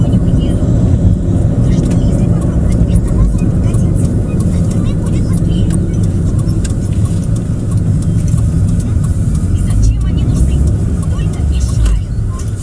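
A car rolls along a village road in Russia, slows to a halt and then pulls away, its engine and road rumble steady and loud beneath someone talking throughout.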